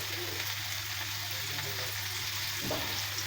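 Chicken with ginger, garlic and chili powder fries in a pan, giving a steady, dense sizzling hiss close by, with a brief stirring scrape near the end.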